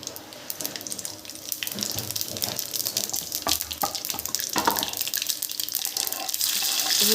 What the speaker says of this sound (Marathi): तेल तापलं यामध्ये मोहरी टाकू